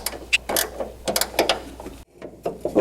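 A ratchet loosens the upper shock nut on a Mustang: a close series of quick, uneven clicks in short bursts, with a brief pause before a few more ticks.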